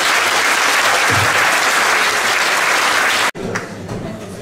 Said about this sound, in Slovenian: en velik aplavz samo za njih!